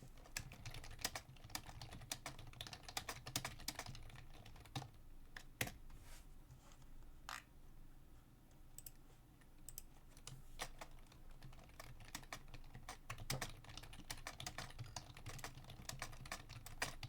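Computer keyboard keys are typed in quick irregular bursts of clicks, fairly quiet and close, with short pauses between runs.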